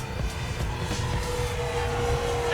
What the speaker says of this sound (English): I don't think that this plane can sustain a high-speed knife edge the way I'm thinking it will.